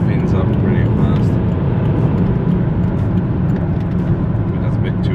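A Volvo XC60 engine spins up quickly right after an inlet port and manifold cleaning, giving a loud, steady broadband roar that holds throughout without clear pauses.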